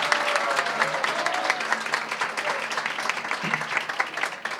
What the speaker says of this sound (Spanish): un aplauso de felicitaciones